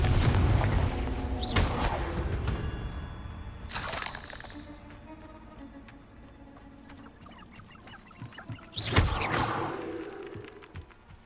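Several loud blasting-spell explosions in Hogwarts Legacy burst with shattering crashes and booming impacts, the first two in quick succession, then a lull of softer game ambience before another heavy blast.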